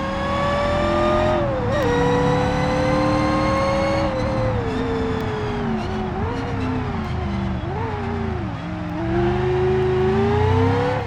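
A truck engine in BeamNG drives hard around a racetrack, its loud, steady drone rising and dipping with revs and shifting through gears, with brief dips as it slows for corners.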